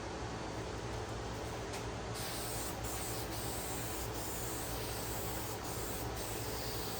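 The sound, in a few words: spraying Zinsser Bulls Eye shellac onto a guitar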